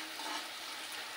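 Onions, green chillies and curry leaves fry with turmeric in a pan, giving a soft, even sizzle that holds steady throughout, quiet and uninterrupted by speech.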